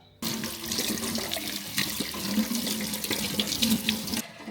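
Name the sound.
water draining from ginger soaking bowl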